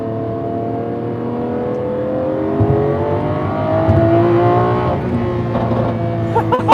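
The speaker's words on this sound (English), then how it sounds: "V10s just don't sound like this." Lamborghini Aventador LP780-4 Ultimae with its V10 engine revving under a single-clutch automated manual, a loud, close rising engine note that climbs steadily, with shift kicks and swells toward the end.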